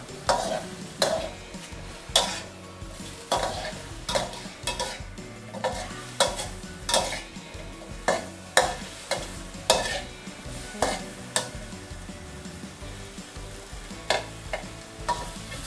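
Thai Chinese sausage fries gently in its own rendered fat in a pan over low heat, a soft steady sizzle punctuated by regular scraping strokes of a spatula against the pan, no talking.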